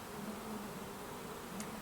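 Packaged bees buzz in a steady, continuous drone, faint and somewhat distant, during transfer into nuc hives in Alaska, with no voices.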